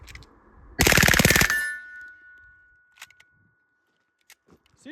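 An MP5K-style civilian sub-gun fires a rapid full-auto burst of Blazer 124 grain 9mm ammunition, loud and sharp for under a second, followed by ringing quiet and a few faint clicks and clatters.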